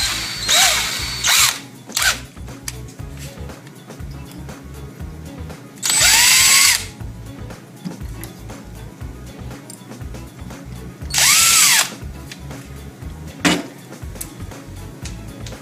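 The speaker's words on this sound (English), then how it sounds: "pre-drill partially to allow the screws to catch without damaging the wood" Power drill pre-drilling screw holes in wood to mount a cabinet lock: several short whirring bursts, two of them longer and loud, with the pitch dipping as the bit bites, set against a steady low background hum.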